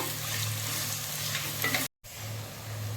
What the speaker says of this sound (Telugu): సన్నగా తగిన ఉల్లిపాయలు, గోల్డెన్ కలర్ వచ్చినంత వరకు వేయించుకుందాం